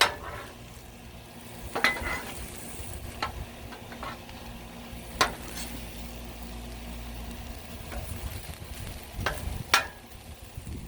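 Meat stir-frying on a flat griddle sizzles steadily while a spatula scrapes and clinks against the metal at intervals, with no voices over it.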